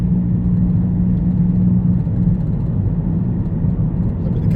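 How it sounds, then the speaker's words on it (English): A worn wheel bearing on a car hums as it drives, a steady low drone running continuously under road and engine rumble inside the cabin. "hopefully you can hear that humming noise in the background."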